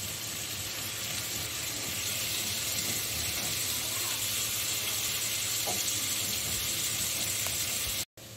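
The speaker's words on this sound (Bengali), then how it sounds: "এটা বিউলির ডালটা ফোড়নের জন্য আমি শুকনা লঙ্কা ফোড়নে দিয়েছি।" Dried red chili sizzling in hot oil as a tempering for biulir dal, a steady broadband frying hiss running close and continuous for several seconds before cutting off abruptly near the end.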